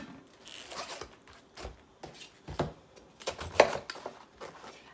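A knife cuts at an angle to remove the middle core of a vegetable, a few close, short crunching and slicing bursts with quiet gaps between them.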